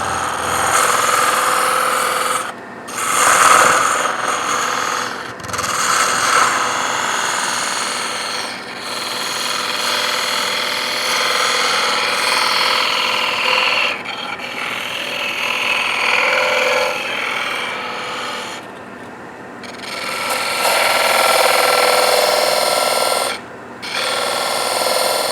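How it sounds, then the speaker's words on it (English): Sanding and shaping a wooden trivet gives a continuous loud abrasive rasping and grinding. The texture shifts as the tool moves, and it drops out briefly several times before starting again. "And then we're going to sand her and cut her loose."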